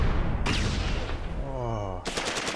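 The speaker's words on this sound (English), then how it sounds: "Oh, that's a lot of grenades. Boom." Grenades exploding in a World War II war game, a loud burst of blasts and crackling gunfire, then a short ringing tonal sweep before another abrupt loud burst.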